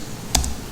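Single sharp keystroke on a computer keyboard while entering a search, one brief close click against quiet room tone.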